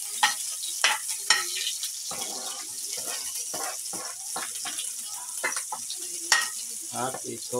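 Sliced ginger frying in hot oil for Filipino chicken neck cooking, a steady close sizzle with scraping stirs and clinks, while a voice speaks briefly over it.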